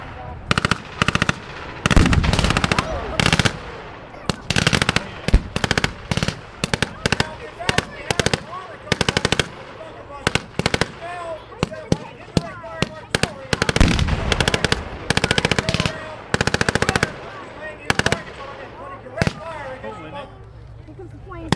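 Bursts of .30 caliber light machine gun fire, loud, close, rapid rattling volleys in irregular runs separated by short pauses, with voices talking between bursts.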